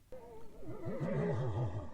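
A horse whinnies once, a loud warbling neigh that starts high and wavers down to a lower pitch, close by.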